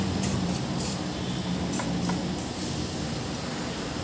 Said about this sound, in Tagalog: So spray niyo lang po siya ng WD-40.